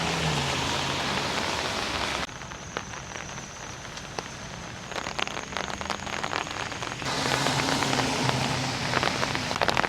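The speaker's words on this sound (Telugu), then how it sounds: "బాగానే పడుతుంది వర్షం" Heavy rain falling on a city street, a loud continuous hiss of drops close by that dips in tone for a few seconds in the middle before returning to a fuller roar, with no voices.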